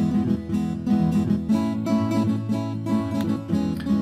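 Programmed guitar strumming pattern played back at double tempo, giving a dense, continuous run of quick chord strums with bright string attacks and a steady sustained chordal wash throughout.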